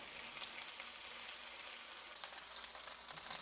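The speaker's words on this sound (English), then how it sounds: "Make sure to fry it on medium to low heat until it browns." Kimchi pancake batter fries in vegetable or canola oil in a pan over medium-low heat, giving a steady, close, continuous sizzle and crackle without pauses and with no voices.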